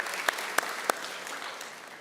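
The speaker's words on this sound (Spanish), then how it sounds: "Dale ese fuerte aplauso al Señor." Faint, steady clapping from a church congregation, with a few sharper claps standing out near the start.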